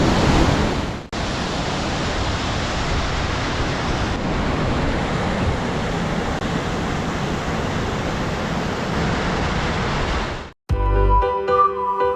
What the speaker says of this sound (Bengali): এত আওয়াজ যে কিছু কথাই শোনা যাবে না, কত উঁচুর থেকে জলটা পড়ছে দেখুন